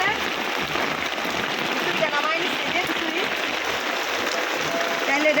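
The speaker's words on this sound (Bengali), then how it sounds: "হঠাৎ করে বৃষ্টি চলে আসছে প্রচুর পরিমাণ বৃষ্টি হইতেছে" Heavy rain pours down in a dense, steady roar beside a wood-fired stove cooking khichuri, with faint voices talking beneath it.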